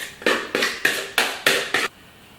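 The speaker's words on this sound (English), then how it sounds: "let's put the mixture on the base. Large spoonfuls of it. Makes a rather nice sound as it pops on there." Six large spoonfuls of cheesecake mixture landing on the base in an even rhythm, each a soft, close, moist slap.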